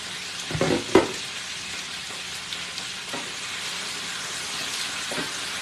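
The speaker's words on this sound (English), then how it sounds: "I'll let a little steam out." Potatoes fry in a pan with a steady close sizzle and hiss. A couple of sharp clatters near the start come as the lid is lifted to let steam out.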